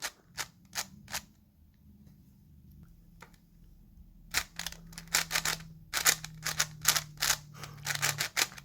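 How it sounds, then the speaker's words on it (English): Small magnets in a Diansheng magnetic face-turning octahedron puzzle click sharply as its faces turn, a few isolated clicks at first and then a denser irregular run of crisp snaps close to the microphone over a low hum. "And you can hear the magnets clicking."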